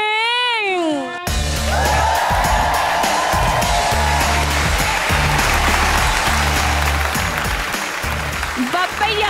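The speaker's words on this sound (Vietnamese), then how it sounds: "hãy dành một tràng vỗ tay thật lớn cho giám khảo Trần Mông Huyền" A TV show audience gives a judge a long, loud round of clapping and cheering. It starts after a short musical sweep and carries on densely for several seconds, with a host's voice heard over it.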